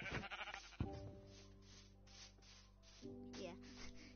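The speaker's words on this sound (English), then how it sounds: "we gotta kill the sheep for food" Sheep bleating in Minecraft, a couple of wavering drawn-out bleats over quiet game ambience, faint overall.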